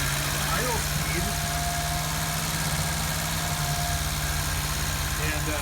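Volvo 122S Amazon barn-find engine idling steadily after warming up, a constant close low thrum with faint vibration throughout.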